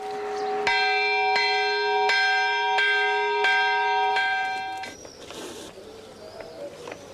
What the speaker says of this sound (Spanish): se descubren las campanas, que tradicionalmente tañían las jornadas de los habitantes de nuestros pueblos